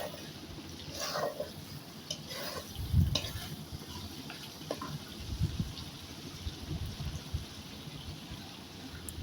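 Spice paste being stirred in a pan over a wood-fired stove, with meat going in: continuous soft sizzling and frying under irregular scraping stirs and a few louder thumps, fairly close.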